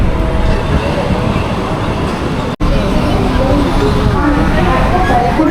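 A moving suburban commuter train near Ulhasnagar gives a loud, continuous rumble and rattle heard from inside a carriage, with people talking over it.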